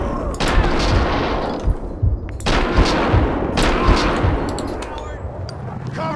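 Gunfire in the video game Max Payne 2, with loud bursts of rapid shots in three clusters, each followed by echoing decay, and a voice in the background.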